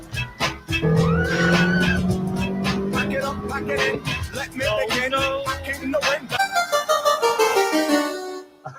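A car with a loud exhaust accelerating and skidding, engine revving up and down while tyres squeal in repeated bursts, loud and close with brief pauses between passes.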